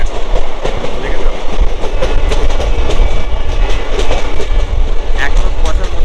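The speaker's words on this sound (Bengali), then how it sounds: "এখনো কুয়াশার মধ্যে দিয়ে ট্রেন ছুটছে" Train running through foggy countryside near Adra in Purulia, a steady loud rumble of wheels and carriage noise with faint clickety-clack, heard from on board and continuous throughout with some background voices.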